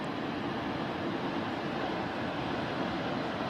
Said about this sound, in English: here we have Palouse Falls, a 200-foot drop with a great big pool at the bottom